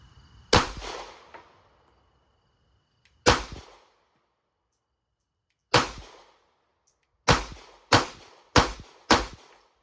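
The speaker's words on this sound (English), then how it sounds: "The gun feels like it just wants to fly out the back when I'm shooting it." Seven loud, close gunshots from a Ruger LCP Max pistol, two spaced single shots, then a pause and five quicker shots in a row, each with a short decaying echo.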